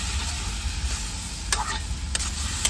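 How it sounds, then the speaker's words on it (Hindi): A spoon stirs food frying in a pan at a truck driver's roadside cooking stop, giving a steady close sizzle with two sharp scraping strokes, no voices. "अब इस पे चलाते हैं अपन चमचा"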